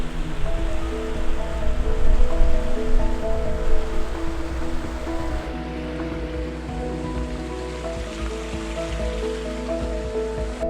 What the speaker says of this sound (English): I can feel the drizzle is coming in